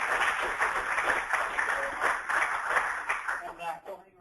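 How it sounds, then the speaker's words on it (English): A room of attendees applauds at the close of a talk by the speaker, Carson, on whole-house monitoring. The clapping is dense and steady, then thins out and fades near the end. "I'm going to just give Carson a round of applause"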